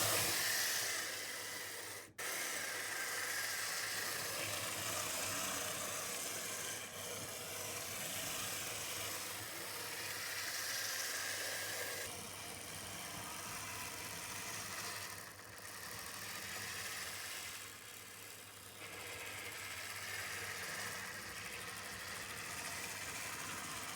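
Twin-motor Piko E44 model electric locomotive crawling slowly around third-radius test track on 12-volt DC, a steady soft motor whir and faint hiss running throughout with light rattling, no voices.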